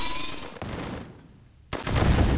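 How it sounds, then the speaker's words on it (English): A bombing run in a video game battle: loud, dense bursts of gunfire and explosions that break off briefly, then return heavier and lower. "Why is he bombing the harvester?"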